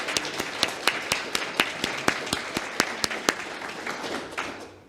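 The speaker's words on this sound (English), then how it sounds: "So yeah, let's give them a round of applause." A church audience breaks into a round of applause, a dense spread of clapping with sharp individual claps standing out in a steady rhythm, then slowly thinning toward the end.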